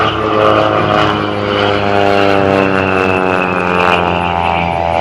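A Decathlon aerobatic propeller plane at an airshow drones loudly and steadily overhead during a slow roll along the runway, its engine and propeller hum constant and close for several seconds, with no talking.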